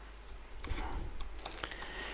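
Quick bursts of typing on a computer keyboard, a few close, light key clicks in an otherwise quiet room.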